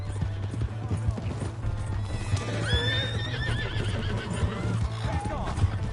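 A horse in Red Dead Redemption 2 whinnies loudly with a rising, shaky neigh over steady hoof clip-clop and game background noise, while people talk throughout.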